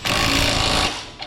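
An impact gun secures lower control arm bolts on a 2010 Equinox 3.0 AWD: one loud, close, rattling burst of hammering that lasts under a second, then fades.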